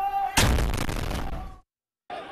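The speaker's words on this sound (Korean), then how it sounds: "옥상에서는 총격이 오갑니다." A sudden loud burst of gunfire that rumbles for about a second before cutting to silence, then background sound resumes; an urban clash between Israeli troops and Palestinian militants in Nablus.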